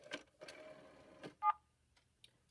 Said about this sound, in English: notice the tone for 7 came out of here